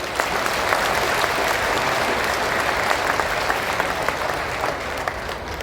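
An audience at a speech event applauds loudly and steadily, dense clapping filling the whole stretch without a break.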